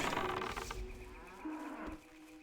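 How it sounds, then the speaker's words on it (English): A cow in the video game WoW Classic gives a drawn-out, moderately loud moo as it is killed, a steady tonal call lasting about two seconds with no talking over it. "Did you just kill a cow?"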